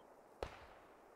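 In a video game, a flare gun fires once with a sudden bright pop that trails into a brief hiss and fades, set against low background ambience.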